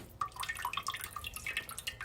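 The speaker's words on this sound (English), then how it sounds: "Make sure you drain that water." Water dripping and trickling as cooking water is drained from boiled turkey spaghetti in a kitchen sink, a steady patter of close drips with no talk.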